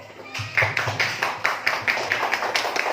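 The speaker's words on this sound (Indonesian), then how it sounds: "Beri aplaus dulu untuk kelompok C." A small audience claps for group C, a classroom group that has just presented a poster. A few hands beat out a quick, fairly even rhythm of close, sharp claps lasting a few seconds.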